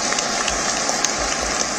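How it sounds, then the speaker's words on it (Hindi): A crowd applauds at the Padma Shri award ceremony, a continuous even patter of many hands at moderate loudness with no clear breaks, and faint low thumps underneath. "तालियों का शोर तुलसी गौड़ा का परिचय पूरी दुनिया से करा रहा था।"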